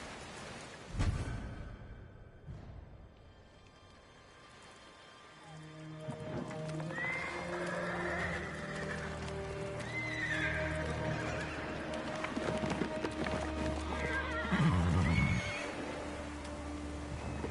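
A horse whinnies loudly nearby in the video game Ghost of Tsushima, with hooves clip-clopping and ambient game sounds around it.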